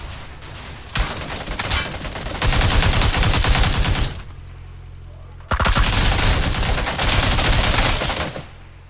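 Friendly fire rattles out in PUBG PC Lite: two long, loud bursts of rapid automatic gunfire separated by a short quieter gap, with players talking around the shots.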